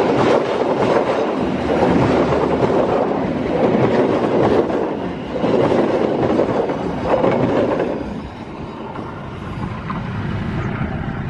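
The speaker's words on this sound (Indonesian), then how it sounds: "kereta api Galunggung telah melintas langsung stasiun Ciawi menuju Cirahayu" The Galunggung passenger train rumbles loudly past at close range through Ciawi station without stopping, with a dense roar and wheel clatter that eases somewhat toward the end. No talking.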